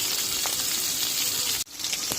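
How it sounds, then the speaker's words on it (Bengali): Koi fish frying in oil in a wok give a steady, dense sizzle and crackle that fills the whole stretch, dropping out briefly for an instant before resuming, with no talking. "আমার মা কই মাছ ভাজাটা বসিয়ে দিয়েছে, এখন ভাজা হচ্ছে"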